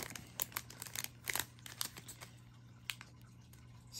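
Yu-Gi-Oh Maximum Gold card packs being torn open, faint crinkling foil and sharp tearing bursts scattered irregularly over a quiet background, close and alone.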